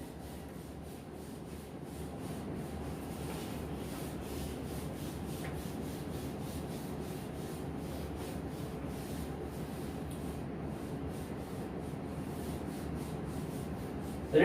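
A duster rubs writing off a classroom board with a steady, continuous scrubbing swish. It is close and moderately quiet, keeps an even texture throughout and has no talking over it.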